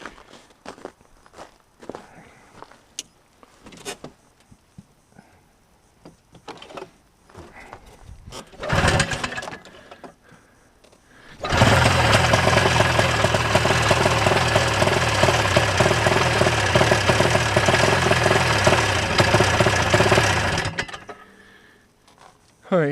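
1987 Ski-Doo Safari 377 snowmobile with a fuel fault, first scattered knocks and handling clatter, then the small two-stroke engine firing and running loudly and steadily for about ten seconds before cutting out.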